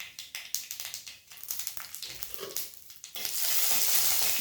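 Dried red chillies drop into hot oil for a banana flower and green gram dish. Quick crackling taps give way to a loud, steady sizzle.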